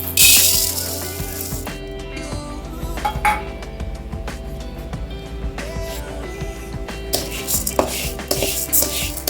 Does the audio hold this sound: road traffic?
no